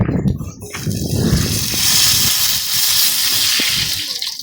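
Water pours steadily into a pot with a broad, rushing gush, close by, with a few clinks and brief low voices in the background.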